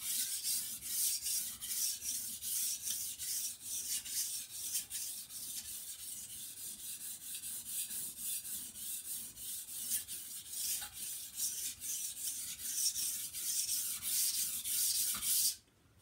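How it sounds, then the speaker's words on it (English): A steel knife blade rasps back and forth on a whetstone in a steady run of repeated gritty strokes, close and fairly quiet, with no talk, then stops abruptly at the end. "I can see metal coming off, this swarf forming on the surface of the stone"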